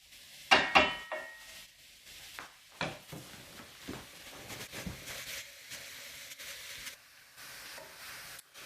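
Mushrooms sautéing in a pan for chicken marsala, giving a soft steady sizzle with occasional stirring scrapes and a few sharper clatters near the start.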